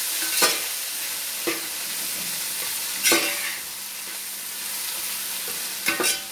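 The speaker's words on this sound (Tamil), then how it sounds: "நெய்யில் போட்டு நல்லா வதக்கணும்." Chopped jackfruit sautéing in ghee for payasam: a constant soft sizzle broken by several sharp scraping stirs in an uneven rhythm, close and fairly quiet, with no talk.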